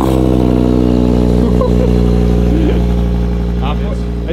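An Audi's exhaust drones loud and low on a cold start with the muffler valve closed, holding a steady rumbling idle while people talk over it.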